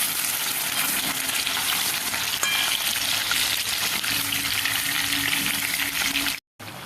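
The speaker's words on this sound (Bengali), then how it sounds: "শুকনো লঙ্কা ফোড়ন দেবো" Dry red chillies crackle in hot oil with a continuous, loud, close hiss, broken by a faint tap and a brief cut near the end.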